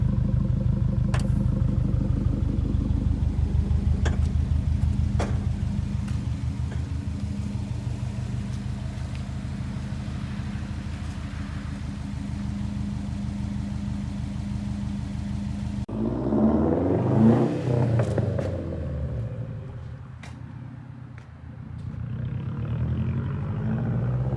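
Deep exhaust drone from a 2015 Subaru WRX STi with a Remark catback exhaust, heard up close as it idles steadily, then a rising rev with rough, shifting tones partway through before it settles back down.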